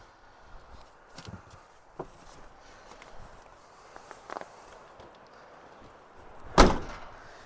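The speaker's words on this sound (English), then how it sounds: "I gotta close the door so he doesn't like fall out" Footsteps shuffle around an RV before its door is shut with one loud, close thud near the end, after a few softer knocks and movements.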